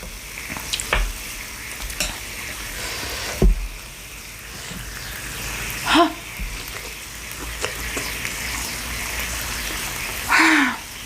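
Pork belly grilling at a Thai barbecue sizzles steadily throughout, with a few sharper crackles and pops standing out above the continuous frying hiss.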